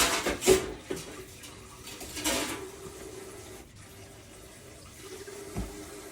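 Water running from a tap into a pressure canner being filled for cabbage roll soup, a steady splashing flow with a couple of louder surges, close by and alone.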